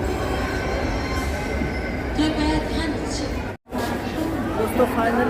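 The Old Delhi–Muzaffarpur Express passes close by with a continuous loud rumble of wheels and clattering coaches, faint wheel squeal, and people talking over it.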